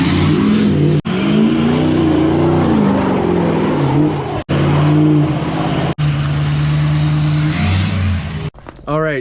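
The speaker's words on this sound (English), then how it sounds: "We got the 8-inch dump on here, so it sounds really good." A Ford 6.0 Powerstroke diesel truck with a straight-pipe exhaust and 8-inch tip revs loud and close in repeated surging pulls, with brief cutoffs between bursts, and a voice is heard alongside.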